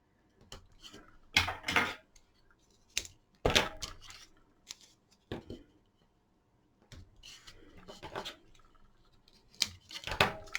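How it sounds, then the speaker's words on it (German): Double-sided adhesive tape is handled and pressed onto a paper card for a Stampin' Up! pop-up pocket card, giving sharp intermittent crinkles, taps and tears close by with quiet gaps between them. "Dafür nehme ich jetzt auch doppelseitiges Klebeband,"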